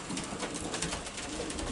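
Racing pigeons coo softly and continuously in an enclosed loft, several birds overlapping into a steady murmur with no talking.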